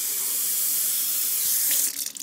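Steady hiss of water pouring into a mug from a coffee maker, close and continuous, shifting into a gurgling splash as the flow tapers off near the end.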